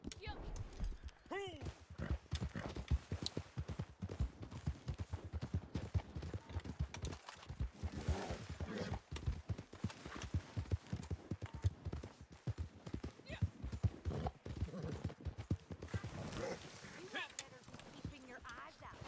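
Horse hooves clip-clop steadily in an online video game, a rapid run of hoofbeats with a short whinny early on, while players talk over it throughout.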